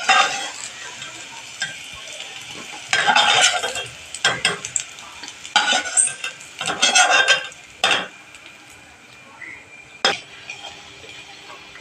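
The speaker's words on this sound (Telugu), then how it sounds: "కాకరకాయ చెక్కలు వేగిపోయినండి, తీసుకుందామండి" Bitter gourd pieces frying in oil, with intermittent bursts of sizzling and scraping as the pieces are stirred and turned, separated by quieter gaps of low crackle.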